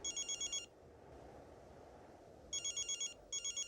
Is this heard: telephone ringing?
yes